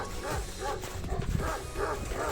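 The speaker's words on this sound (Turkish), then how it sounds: "Biz hemen köpekler karşıladı." Several village dogs bark and yelp at strangers in a steady, overlapping chorus at moderate distance, with the barking continuing throughout.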